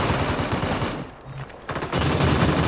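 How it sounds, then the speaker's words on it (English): Rapid automatic gunfire from the battle royale game Super People, loud and continuous, with a short gap before the shooting resumes at full intensity. "I'm getting shot from somewhere else."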